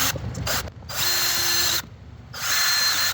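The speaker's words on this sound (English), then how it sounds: "I'm going to take my drill, using their alignment, pre-drill the holes." A power drill whirs in several bursts, pre-drilling holes to mount a solar security camera, starting and stopping with short pauses between, close and loud, with a brief steady whine in between.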